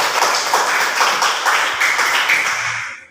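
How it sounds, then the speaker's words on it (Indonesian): A classroom group claps hands for a presenting student group, a dense burst of clapping lasting about three seconds before fading out at the end. "Kasih tepuk tangan buat kelompok 1."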